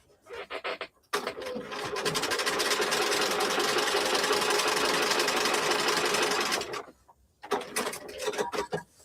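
Sewing machine stitching down an appliqué on a T-shirt, a close, steady rapid whir of about five seconds, with short stitch bursts before and after.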